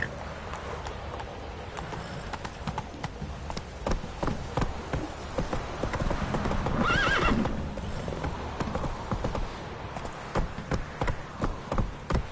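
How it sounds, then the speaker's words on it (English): A horse gallops in The Witcher 3, with rapid rhythmic hoofbeats, a whinny partway through and a buzz of insects in the background, no talk. "Run, Roach"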